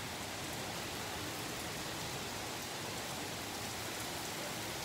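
Heavy rain pours down steadily in Wisconsin, a dense, even hiss of drops on surfaces that fills the whole stretch with no breaks and no other sounds.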